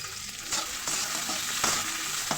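Cubed onions and chopped garlic sizzling steadily in hot oil, with a few sharp stirring scrapes cutting through the close, even frying hiss.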